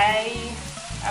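Apple cider vinegar poured into a hot pan of sizzling cabbage and ground beef, a brief steady frying hiss with a soft splash, close and without talk.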